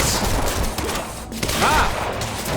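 Rapid gunfire from the video game Quantum Break, dense overlapping bursts of shots at high volume with a brief vocal interjection in the mix.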